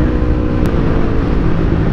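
A Yamaha R25 sport motorcycle with about 37,000 km rides along a road, its engine droning loud and steady beneath heavy wind rumble, with no voices.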